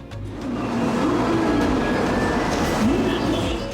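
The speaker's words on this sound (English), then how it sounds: "it'll be a 1-hour train ride to Kobe" Steady rumble of a Shinkansen bullet train riding toward Kobe, Japan, heard from inside a carriage, with a continuous low roar and faint higher whine, fairly loud throughout.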